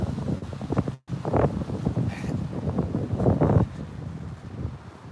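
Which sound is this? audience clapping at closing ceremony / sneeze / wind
wind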